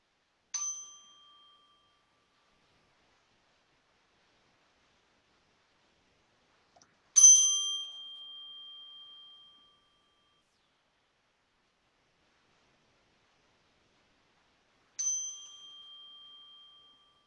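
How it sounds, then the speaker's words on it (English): A mindfulness meditation bell struck three times to close a practice, each a single clear ding in near silence that rings out and fades slowly, the middle strike the loudest and longest, spaced several seconds apart. "in a few moments, I'll ring the bell"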